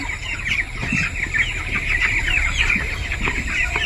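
Chickens on a poultry farm cluck and chatter steadily as a dense, busy flock, with no one speaking.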